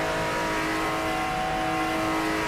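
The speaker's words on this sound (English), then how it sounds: "we're driving at considerable speeds here" Engine of a car at around 320 km/h on a highway in the driving game Shutoko Revival Project, a loud, continuous high-speed drone with a steady pitch and wind roar, no voices.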